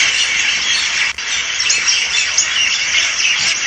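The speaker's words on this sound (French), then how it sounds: "Le bruit des oiseaux juste avant la nuit." A dense flock of birds calls noisily just before nightfall, layering shrill squawks and chirps into a loud, continuous chorus with no voices.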